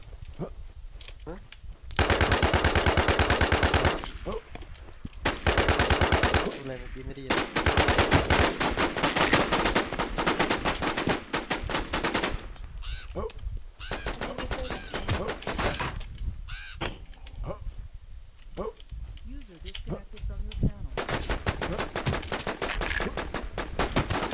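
Rapid bursts of automatic video-game gunfire from a multiplayer shooter, loud and near, with long sustained volleys and shorter rattles, broken by brief gaps and mixed with scattered player talk.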